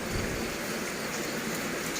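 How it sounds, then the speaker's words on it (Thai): Steady rain falling through the night in rural Thailand, a dense, even hiss of drops on surfaces with no pauses and no voices. "ฝนยังตกอยู่"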